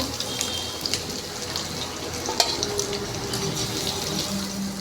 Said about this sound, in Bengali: নুন হলুদ দিয়ে ভালো করে ভেজে নিব।